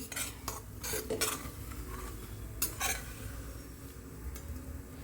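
Semolina roasting in a pan while being stirred, soft steady background hiss broken by several sharp scraping strokes of a spoon against the metal, no voices.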